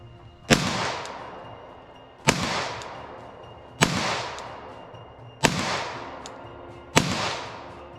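Five sharp pistol shots from a Glock fired at a target range, spaced roughly a second and a half apart, each a loud crack followed by a decaying ring, with no talking.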